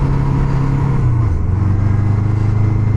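A 1977 Honda Hondamatic motorcycle engine runs steadily while riding, a loud, continuous low rumble whose pitch dips slightly partway through, with no talking.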